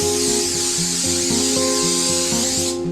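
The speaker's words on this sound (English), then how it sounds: "I'm going to use a little pan spray, and right on my counter" A steady hissing spray from a can of cooking spray onto a kitchen counter runs continuously, with rhythmic background music playing underneath.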